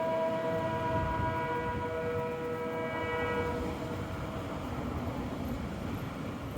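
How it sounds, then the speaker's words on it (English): A train rumbles past with a sustained horn blaring over the steady roar of the wheels, loud and continuous. "Sounds like a train."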